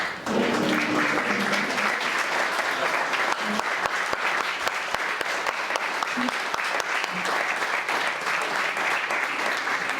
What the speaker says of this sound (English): I just want to give them a round of applause, the Central Committee members